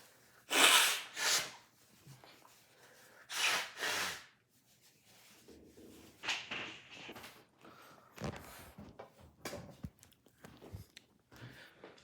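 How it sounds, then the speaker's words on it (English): Someone blows their nose close to the microphone in several loud, breathy honking bursts, two strong ones at the start followed by softer snuffles, sniffs and rustling. "Let me blow my nose real quick."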